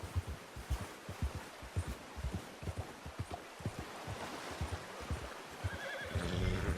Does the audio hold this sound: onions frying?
no